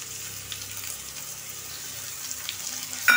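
Onions browning in a home kitchen pan sizzle softly and steadily as ginger and garlic are added, with a brief sharper clatter near the end.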